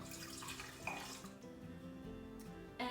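One cup of water pours from a tap or into a bowl that already holds melted butter for cinnamon bun and cream cheese fondue, a soft, steady trickle that runs unbroken for three seconds.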